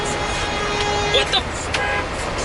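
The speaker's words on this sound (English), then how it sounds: "the freak you honking at, bro?" Car horns honking in street traffic, short toots sounding over steady road noise and engine rumble, with voices talking throughout.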